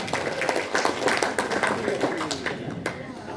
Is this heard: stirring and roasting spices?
no